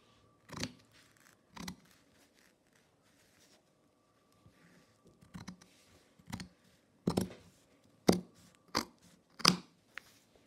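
Scissors snip through fabric while cutting out the curved neckline of a front-open jacket, a series of crisp, close cuts spaced irregularly with short pauses between them, no talking.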